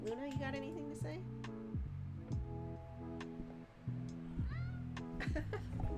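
Luna the cat lets out several short meows close by, scattered among tonal background music and sounds, with people talking around them.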